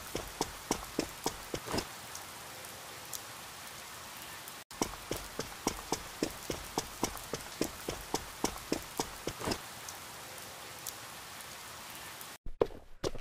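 Steady rain falls through a forest in a video game, a dense constant patter with irregular nearer drips and splashes, briefly cutting out partway through and near the end.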